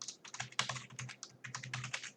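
A password is typed on a computer keyboard: a quick, continuous run of close, crisp keystrokes lasting about two seconds, with no voices.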